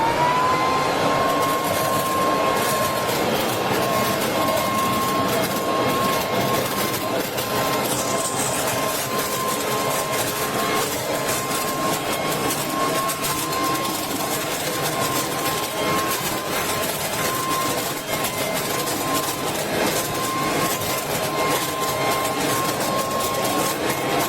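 A WORX TRIVAC WG 512 leaf blower vacuum sucks up leaves outdoors. Its loud, steady motor drone and high whine run unbroken throughout, with no voices heard.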